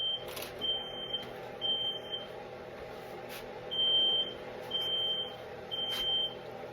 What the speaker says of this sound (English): My smoke alarm is going off.